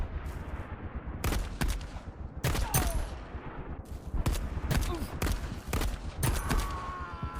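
Gunfire in the World War II shooter United Assault - Normandy '44, sharp rifle and machine-gun shots cracking in irregular bursts and single reports, loud and close over a low rumbling battlefield backdrop.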